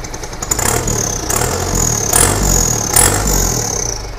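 Mitsubishi Canter truck engine fitted with a new exhaust, blipped with light throttle, giving a steady crisp raspy drone with a few brief rises in revs over about four seconds, no talking.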